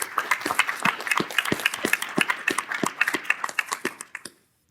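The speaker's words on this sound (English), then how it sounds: "I just want to give them a round of applause and say thank you" Scattered clapping from a small group, individual claps distinct and uneven, fading out and stopping near the end.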